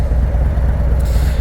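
Low, steady engine rumble from a 2018 custom Harley-Davidson Road King Special idling, a dense continuous throb close by with no talk over it.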